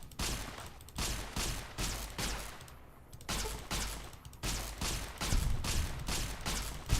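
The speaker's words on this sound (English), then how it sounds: "Let me try the laser. Looks like some alien probing gun." Laser gun firing in the video game Fallout: New Vegas, heard as a rapid series of loud, sharp shots in regular bursts with short pauses between them, continuing throughout.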